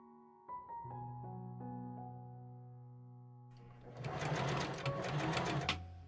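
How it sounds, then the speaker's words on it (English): A sewing machine stitches a skirt waistband to its lining for an 1890s ballgown, starting with a steady whirring run that builds into a louder, busier burst of stitching near the end, with no voices. "I pinned the waistband to the lining and machine sew along the 3 edges"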